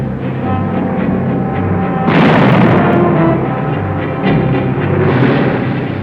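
Heavy wartime artillery fire in a field setting, a loud booming burst swelling up about two seconds in and rumbling on, with further dull blasts over a steady background roar.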